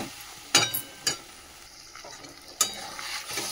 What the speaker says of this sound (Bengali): বেগুনটাও এর মধ্যে কষানো হয়ে যাবে